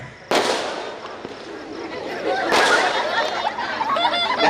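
Firecrackers go off at a mehandi dance program: two sudden loud bursts trail into dense crackling that grows louder, while a crowd chatters and laughs around them.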